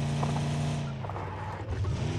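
A car drives in the mobile game PUBG Mobile Lite, its engine droning steadily with a tonal hum and tire noise, loud and continuous throughout.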